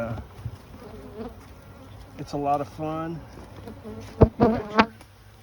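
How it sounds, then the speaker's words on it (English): Honey bees buzz in a bee yard during a honey harvest, a faint steady hum in the background while a person speaks briefly close by. "We'll shake all the bees out."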